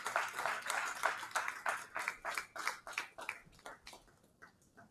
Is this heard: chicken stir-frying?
no